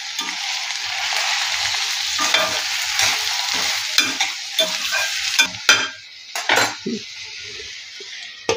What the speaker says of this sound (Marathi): टोमॅटो टाकूया, मटर पण टाकूया. पुन्हा हे मिक्स करून घेऊया.